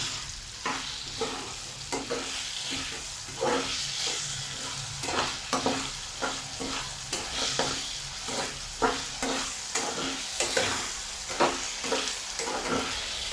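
Onions and potatoes frying with salt in oil, a steady close sizzle cut by quick, regular spatula scrapes every half second or so throughout, with no voices.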